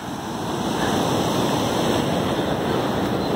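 Sea waves wash in steadily at Calangute Beach in Goa on a rainy July morning, a broad continuous roar of surf with wind noise on the microphone and no voices.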